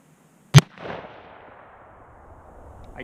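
Single sharp report from a Remington Model 788 rifle chambered in 6mm, loud and close, followed by a rolling echo that fades out over a couple of seconds.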